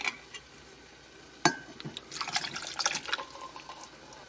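Canned butter beans and their liquid are poured into a cooking pot, giving a sudden splash followed by a couple of seconds of sloshing, gurgling pouring, close and moderately quiet.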